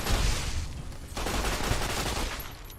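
Gunfire in the game Fallout: New Vegas, a dense, loud burst of rapid shots with a short break before another sustained volley.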